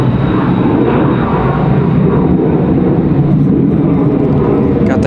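An Airbus A220 airliner flies near Raleigh-Durham International Airport, heard as a steady, loud, broad engine roar holding constant throughout with a faint high whine and no speech.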